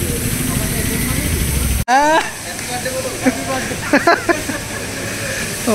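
A pressure washer sprays a brand-new 2025 KTM Adventure 390 motorcycle, a steady broadband hiss that cuts off abruptly near two seconds, then resumes under someone speaking and scattered clanks.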